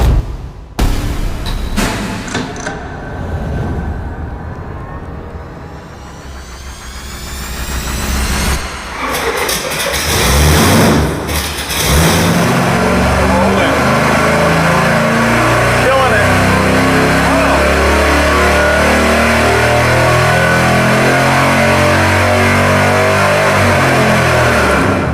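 Carbureted Chevy 350 V8 with production iron heads on an engine dyno, cranking and firing, then a steadily building roar as it pulls through a long, loud, sustained rev with harsh broadband noise; no speech.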